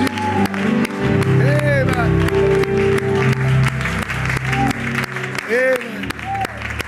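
Church congregation applauding and cheering in a loud, continuous wash of clapping, with singing and voices over it throughout.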